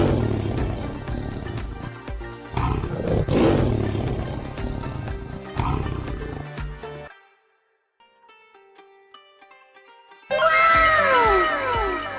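A lion at an animal crossing fountain gives loud, rough roaring bursts, followed by a near-silent gap and then a bright, warbling animal call that fills the end, with no talk.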